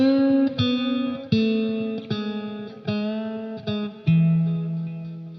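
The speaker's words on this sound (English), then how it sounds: "here's the harmony line before the extra reverb pedal" A Stratocaster electric guitar plays a harmony lead line before an extra reverb pedal is added, with a series of sustained, distorted notes, each picked attack decaying into the next, loud and alone.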